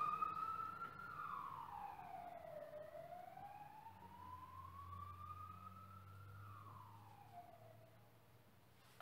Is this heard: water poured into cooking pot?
no